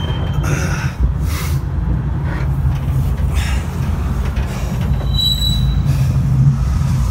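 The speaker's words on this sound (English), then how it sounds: "I'm on the train." Passenger train running between Bend, Oregon and Stockton, California, heard from on board with a steady low rumble and repeated high wheel squeals rising over it.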